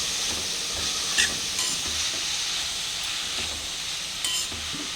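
Chopped red amaranth greens stirred in a hot pan for a simple Marathi bhaji, with a steady sizzle and hiss broken by a few sharp spatula scrapes and clinks.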